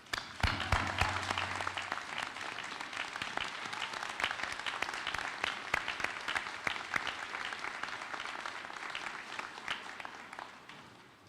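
Sustained applause from a commencement crowd honouring students' families and friends, dense steady clapping filling the hall for about eleven seconds at an even level, tapering slightly at the end.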